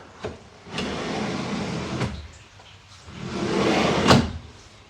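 An IKEA PAX wardrobe drawer with soft-close runners slides and shuts in a few separate scraping, thudding strokes, nearby and fairly loud, with no talking.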